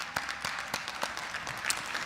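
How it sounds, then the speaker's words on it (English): Scattered applause from an audience at a University of Delaware doctoral hooding ceremony, a steady wash of clapping with a few sharper claps standing out, fairly distant. "Another round of applause."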